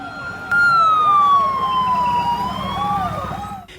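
A siren wails on a road crowded with pilgrims during the Wari procession near Wakhari. It rises sharply and sweeps in a repeating up-and-down pattern, loud and fairly close, over traffic rumble and faint voices.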